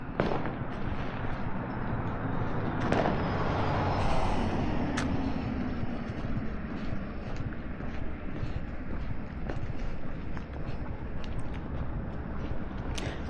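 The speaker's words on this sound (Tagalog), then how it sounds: "Uy, may nagpa-fireworks." Fireworks bursting somewhere in the distance near a park road in New Zealand, a steady crackle of scattered pops and bangs over constant outdoor background noise, with no talk.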